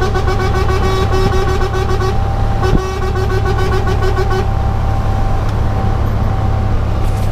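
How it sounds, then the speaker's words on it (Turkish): A long-haul truck's loud, steady horn blares in long sustained blasts, with a second tone joining and cutting out, over a constant engine drone. "Yatarken bir korna çalalım."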